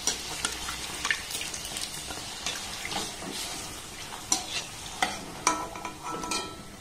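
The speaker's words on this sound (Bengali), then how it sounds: "আর এই একই রকম ভাবে সবগুলোকে আমি সুন্দর করে ভেজে নেব" Luchi, soft puffed Bengali breads, fry in hot oil with a steady faint sizzle and scattered small crackles and stirring clinks throughout.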